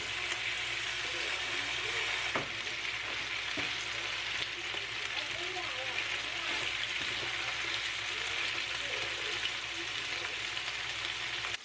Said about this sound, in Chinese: 再把刚才腌制好的鸡腿排拿出来干煎